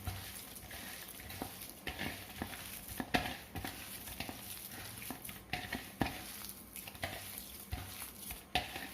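A spoon works through a thick snack batter with coriander and lemon juice, giving soft, wet, uneven squelches and scrapes in a loose rhythm, faint and close, over a low hiss.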